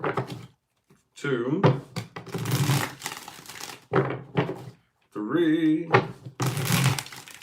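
Tarot cards being shuffled by hand in short, papery bursts of riffling and tapping between spoken counts.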